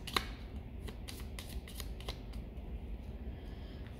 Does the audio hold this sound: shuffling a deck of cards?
yes